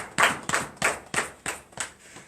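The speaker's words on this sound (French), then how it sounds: "Donnons l'acclamation au Seigneur Jésus-Christ." Congregation clapping in acclamation at a morning prayer service, about seven loud, evenly spaced claps in a steady rhythm, each ringing briefly in the room.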